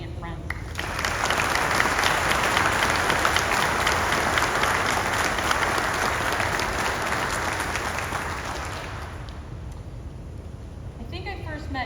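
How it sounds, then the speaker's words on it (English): An audience at a United States Navy retirement ceremony claps in a long, dense round for the retiree's family and friends, building quickly, holding steady, then fading out near the end. "Please join me in a round of applause for Drew's family and friends."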